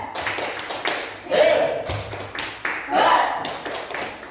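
A class at an elementary school performs a rhythmic clapping chant, with bursts of hand claps in a set pattern and voices chanting along between the claps.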